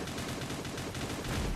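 Rapid automatic gunfire from the Cyber Hunter video game, a dense continuous burst of shots with no break.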